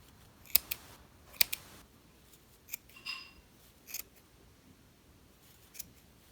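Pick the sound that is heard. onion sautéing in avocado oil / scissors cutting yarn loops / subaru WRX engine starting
scissors cutting yarn loops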